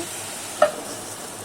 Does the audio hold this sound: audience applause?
no